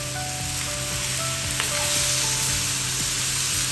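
Spices such as coriander powder, cloves, star anise and bay leaf sizzle steadily in a hot pan while being stirred for a chicken feet curry, with a faint scrape of the spoon partway through.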